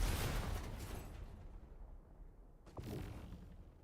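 A missile explodes in a video game with a heavy boom that decays into a rumbling tail, followed by a second, softer blast a few seconds later.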